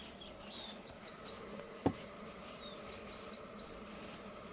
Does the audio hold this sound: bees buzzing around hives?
yes